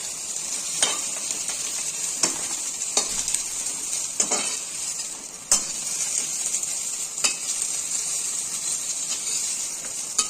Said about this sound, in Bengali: আমার ঢেঁড়সগুলো ভাজা হয়ে গেছে, হালকা হালকা করে ভেজে নিয়েছি